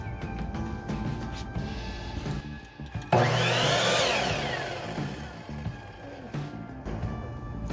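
A mitre saw wired through a dimmer switch set to maximum speed spins up with a sudden loud whine around the middle, then keeps a steady high hum after a stretch of low shuffling and handling noise.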